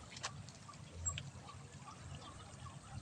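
Swift floodwater current rushing through flooded rice fields in Bugallon, Pangasinan, a steady low watery roar with faint trickling at moderate distance, no voices.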